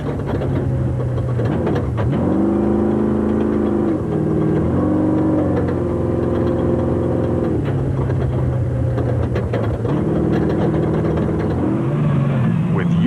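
Rally car engine heard from inside the cabin while driving through dense bush in the Toyota 1000 desert race, revving up and down through gear changes with a loud steady drone and rattling.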